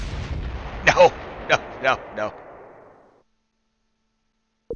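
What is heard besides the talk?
mortar fire incoming in Close Combat III video game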